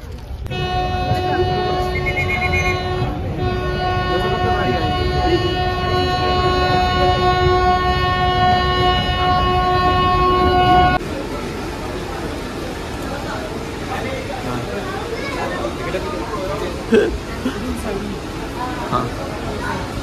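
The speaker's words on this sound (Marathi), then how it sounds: "सो फायनली ट्रेनमध्ये बसलो आहे आम्ही" A passenger train at a station, bound for Coonoor, sounds a long steady horn for about eleven seconds, then the blast stops and rumbling platform noise and a brief clank follow, with people talking.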